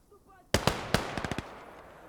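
Call to Arms: Gates of Hell gunfire arrives after a short quiet start as a loud sharp shot, then several separate cracks and a quick closing volley of four or five rounds, with faint voices beneath.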